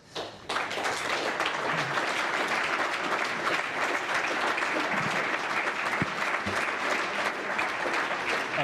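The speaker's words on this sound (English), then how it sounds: "Applause, I'm sure, for the answer and the question." Sustained applause from a large audience at the National Press Club follows a political address, beginning abruptly after a brief quiet moment and continuing as a dense, steady wash of clapping.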